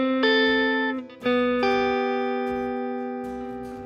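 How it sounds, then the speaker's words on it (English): Electric guitar in a country style plays a classic turnaround lick ending on G, a few picked notes that slide into a long, ringing final note, clean, close and sustained, slowly fading. "you get that classic country turnaround ending"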